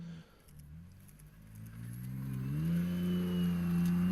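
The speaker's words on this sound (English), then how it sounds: "Doesn't sound bad. I mean, you got the dual tips, but it's still, I think it's a single exhaust." A 2022 Ford Bronco Raptor's 3.0 engine idles with a low exhaust drone through dual tips, then revs up and holds a deeper, steady hum.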